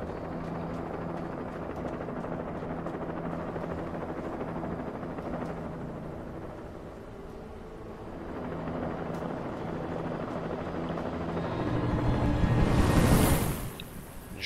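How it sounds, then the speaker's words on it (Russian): A helicopter in the video game Alan Wake, a steady rotor drone that holds for a long stretch and then swells louder near the end as it passes close. "О, вертолетик."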